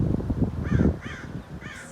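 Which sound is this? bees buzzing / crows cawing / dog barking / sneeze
crows cawing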